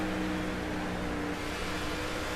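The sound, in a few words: race car driving down pit road in NASCAR '15 video game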